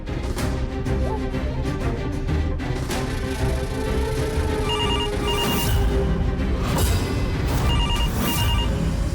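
A telephone rings in repeated electronic bursts, clear and fairly loud, over a steady background hum.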